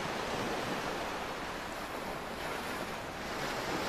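Ocean waves break steadily on a snowy US East Coast shoreline in the Real VR Fishing game, a continuous broadband surf wash with some wind noise, loud and unbroken throughout with no voices.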